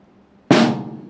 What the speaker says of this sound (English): Now we can put this together into song number 10, the Fab Five, and it should sound something like this.